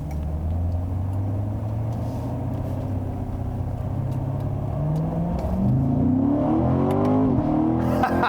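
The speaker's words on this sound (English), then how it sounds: "I love those firecracker bang, like gunfire shifts when it shifts." A 2018 Chevrolet Corvette Grand Sport engine drones steadily, then revs up with rising and falling pitch sweeps as it shifts, loud and close with no talk.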